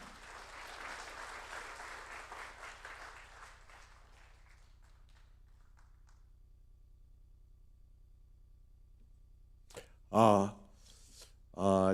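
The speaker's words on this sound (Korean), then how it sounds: "감사의 박수를 보내주시기 바랍니다" An audience at a formal gathering of elder statesmen in a Lotte Hotel hall gives a round of applause, a dense burst of clapping that fades out over several seconds into near silence before a voice begins speaking.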